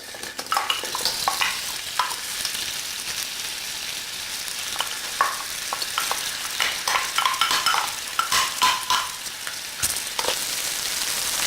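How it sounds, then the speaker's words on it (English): Onion and garlic frying in hot oil in a pan, a steady close sizzle under repeated scraping and clinking strokes from a utensil stirring the pan. "We are going to cook the onion and garlic for 1 minute"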